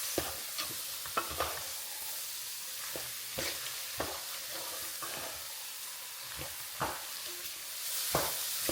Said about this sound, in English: I'm going to let this cook down for about 5 to 10 minutes